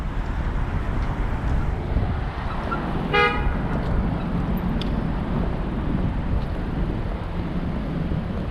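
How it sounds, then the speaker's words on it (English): Busy city traffic near the Brooklyn Bridge, with heavy wind and road roar throughout and a single short, clear car horn toot a bit past the midpoint, fairly near, with no talking. "There's a lot of traffic here."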